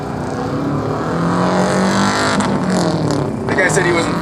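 A rallycross race car rolls onto the starting grid, its engine droning and revving in a steady, loud rumble that rises slightly near the end, with someone talking over it.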